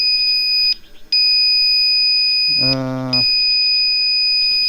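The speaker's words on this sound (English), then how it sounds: "Severe tilt back, beeping." A Commander GT Pro electric unicycle sounds a loud, high-pitched warning beep in long sustained tones with short gaps, and a person briefly speaks over it.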